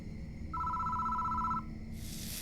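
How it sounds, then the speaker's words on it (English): A telephone rings in the horror video game Spirit Hunter: Death Mark. It gives one sustained electronic ring tone of about a second over a quiet, eerie background hum, followed by a soft burst of noise. "Phone starts ringing out of nowhere."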